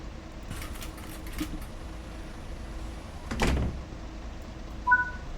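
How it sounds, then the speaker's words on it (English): Doors on a Class 142 Pacer train in a train simulator close and lock with a single broad thud, followed moments later by a short clunk, over a steady low cab rumble. "Alright, lock doors, lock doors."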